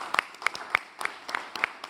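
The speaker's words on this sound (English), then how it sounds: "I want you guys to give a big round of applause to our sponsors," A business debate audience gives a round of applause to a sponsor, a small group clapping in a loose, sparse rhythm of distinct near claps.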